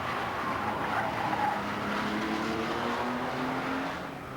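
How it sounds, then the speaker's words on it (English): Racing cars with flat-six engines at the 1989 Nissan Mobil 500 street race give a steady, close engine roar with a slowly shifting tone, dropping slightly toward the end, with no talk. "they have that characteristic flat six sound"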